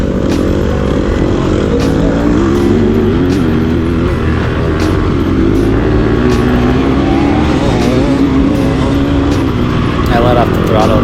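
An off-road racing vehicle's engine drones loudly and continuously through a lap, its pitch wavering as the throttle rises and falls, with wind and rough terrain noise throughout.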